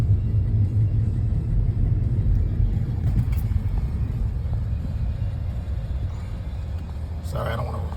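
A car drives along a road past tornado damage in Fort Pierce after Hurricane Milton, heard from inside the cabin as a steady low engine and road rumble throughout.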